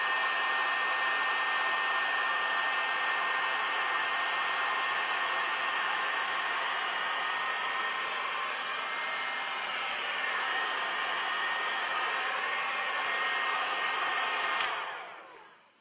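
A hair dryer dries a repaired leather car seat, its close, steady airy roar running unbroken for about fifteen seconds before it shuts off and fades at the end.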